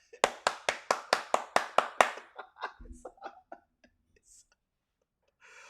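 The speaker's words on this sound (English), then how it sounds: "Everybody, clap your hands and clap, clap." About eight sharp, evenly spaced hand claps ring out in a quick rhythm, then fade into scattered softer sounds and a brief voice before near silence.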